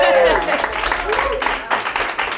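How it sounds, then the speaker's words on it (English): Audience applause during a televised celebrity interview, a short burst of clapping at close range that runs under overlapping talk and laughter. "Yeah, a round of applause."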